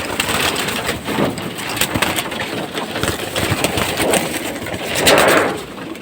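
Racing pigeons flutter and coo while being fed, with a steady crunching, rustling bed of feed and movement throughout and a louder swell of noise near the end.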